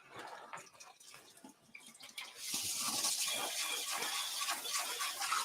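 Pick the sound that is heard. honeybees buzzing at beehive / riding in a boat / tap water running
tap water running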